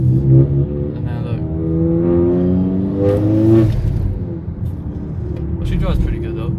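10th gen Honda Accord with a recently fixed transmission leak driving along, engine note climbing steadily as it revs through a gear, then settling into steady road rumble, heard from inside the car, with a person talking over it.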